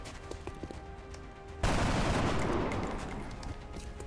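A single heavy gunshot in XCOM Long War, a sudden loud blast that follows a quieter stretch of game ambience and decays slowly into a sustained rumble.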